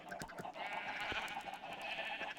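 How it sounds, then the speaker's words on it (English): Sheep in Minecraft bleat repeatedly at moderate volume, a steady overlapping chorus of nasal game bleats with no talk. "sorry if the damn noise of the sheep and everything is a little nerve-wracking."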